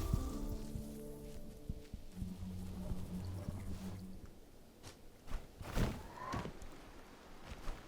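Rain falling in the rain area of the video game Winds & Leaves, a steady soft patter heard alongside low sustained music tones and a few brief thuds and knocks.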